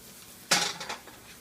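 A pan of softened onions with garlic just added gives a single sharp clatter of a utensil against the pan. A brief stir follows, with faint sizzling underneath, then quiet.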